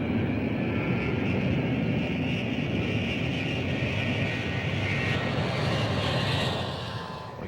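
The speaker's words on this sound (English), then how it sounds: "We gave it the power and took off" A Boeing 707 jet airliner takes off on full power, a steady loud roar of jet engines with a broad hissing whine that holds evenly and then begins to fade near the end, with no talking.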